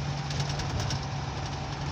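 A 1620 engine with a faulty starter motor gives off a loud, continuous mechanical drone that holds steady for the whole moment, with no pauses or speech.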